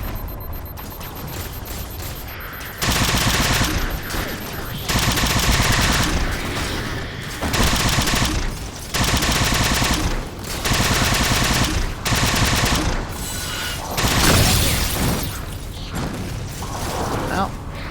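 Rapid bursts of gunfire from Halo gameplay come in repeated loud volleys of a few seconds each, separated by brief lulls, with a voice speaking underneath.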